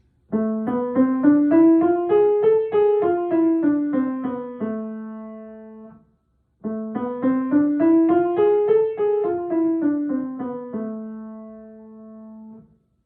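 A musical scale is played up and back down twice, separated by a short pause, each run ending on a long held low note.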